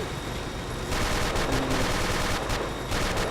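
Steady automatic gunfire from the blocky first-person shooter game Ace of Spades, a continuous loud rattle of shots with no speech, swelling slightly after the first second.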